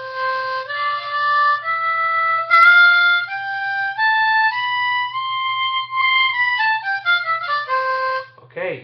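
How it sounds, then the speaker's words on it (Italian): A common diatonic harmonica in first position plays a sequence of clear sustained reedy notes, stepping through a major-scale pattern with chords and single tones, close and fairly loud, no talking. "questa è una comune diatonica, in prima posizione suona così"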